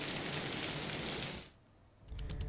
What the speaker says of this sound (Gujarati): પંચમહાલ જિલ્લામાં ગાજવીજ સાથે વરસાદ